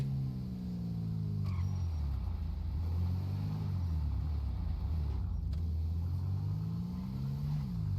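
A stolen car driven in a video game gives a continuous engine drone whose pitch swoops up and down as it revs and shifts. The sound is steady and alone, with no talking.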